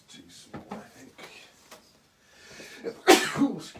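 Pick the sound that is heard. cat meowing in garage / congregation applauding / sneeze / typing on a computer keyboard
sneeze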